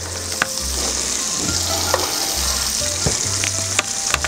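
Garlic fries in a pan for a clams à la Portuguesa dish, a loud continuous close sizzle with stirring scrapes and occasional sharp clinks of a utensil against the pan.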